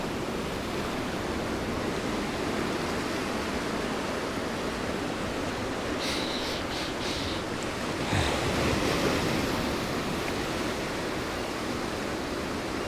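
Ocean surf washes onto a Pacific beach with surfers in the waves, a steady broadband roar, with wind buffeting the microphone and a brief swell of breaking water.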